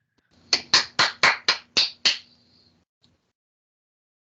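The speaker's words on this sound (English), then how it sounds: "come off mute and give a round of applause" Seven crisp, close claps from a single participant in a virtual user group meeting, quick and evenly spaced, then silence with a faint tap after.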